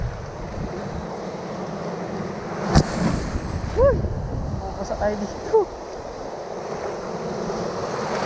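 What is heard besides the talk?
strong ocean waves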